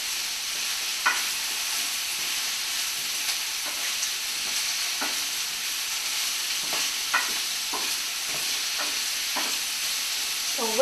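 Zucchini stir-fried in a pan gives a continuous, even sizzle with light, irregular knocks and scrapes as it is mixed, fairly close and with no voices.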